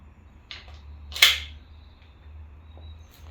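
A green gas airsoft gun firing 0.25 gram pellets at a 20 mil plastic sheet about 8 feet away gives a couple of short, sharp pops, the second louder, over a low steady hum in a quiet room.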